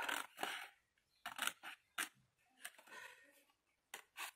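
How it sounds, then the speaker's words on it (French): Large scissors cut through cardboard for a 6 cm scrapbook archive box, making several close, crisp snipping and crunching bursts separated by short pauses, with no talking. "Mes gros ciseaux ne vont pas jusqu'au bout."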